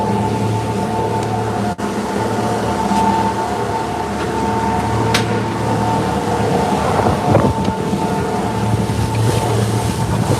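Steady wind buffets over a low boat engine drone and water noise, a continuous loud rush with no speech.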